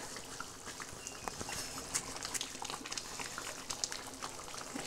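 Fish curry simmers at a rolling boil in a pot, with ajwain added, giving a steady close-up bubbling and soft popping patter that runs evenly throughout with no voices.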